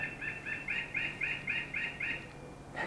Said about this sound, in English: That's the birds.